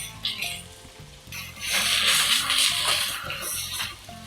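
Sliced onions and whole spices sauté in a mix of ghee and oil, a bright crackling sizzle that rises midway and holds, with soft stirring scrapes underneath and no talking.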